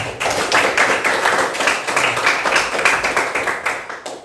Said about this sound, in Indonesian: tepuk tangan buat Star.